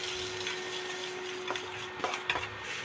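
Eggs fry in plenty of oil in a pan with a faint, steady sizzle, broken near the end by a few sharp scraping knocks of a spatula.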